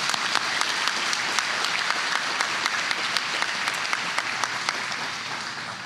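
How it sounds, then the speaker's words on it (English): Audience applause fills a gala evening celebration, a steady dense wash of clapping with sharper individual claps poking through, easing slightly toward the end. "Can we give a round of applause to them?"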